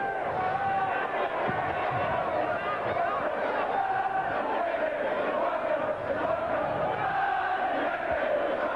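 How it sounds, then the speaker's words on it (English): Warrington rugby league spectators booing during a Lockers Cup match against Wigan, a broad, sustained crowd din that carries on under a commentator's voice. "a little bit of booing from the Warrington spectators"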